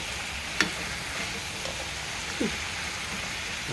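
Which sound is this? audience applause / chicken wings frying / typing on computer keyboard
chicken wings frying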